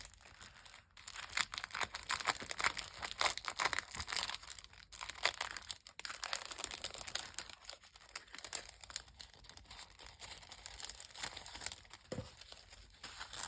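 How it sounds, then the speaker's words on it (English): Sheets of honeycomb tissue paper crinkle and rustle up close as they are unwrapped and handled, in irregular crackling bursts with brief pauses. "And this might be the tissue paper."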